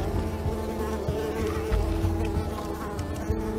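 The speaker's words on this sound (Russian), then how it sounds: "до меня комары доколупались" Mosquitoes buzz steadily through a video game scene in Unravel, a continuous insect whine that holds at an even level over dense game ambience and never fades.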